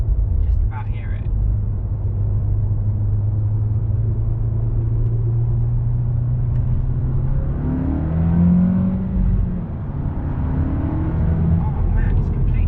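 A manual Mk7 Volkswagen Golf R drives along, its engine giving a continuous low rumble with faint burbling as the throttle lifts, heard from inside the car while a person talks.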